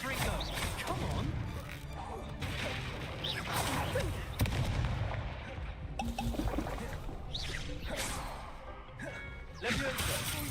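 Repeated Confringo spell blasts in the Hogwarts Legacy video game, several crackling bursts and rumbling impacts spread across about ten seconds amid busy combat noise, moderately quiet.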